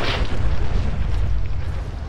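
A loud explosion in the video game Fallout 4, a heavy booming blast with a deep, rumbling low end that fills the whole moment, close and alone with no talk.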